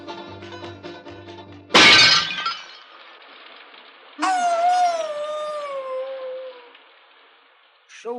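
An old hound dog lets out a long, falling howl that fades away, preceded by a loud crash of breaking glass and a short musical passage.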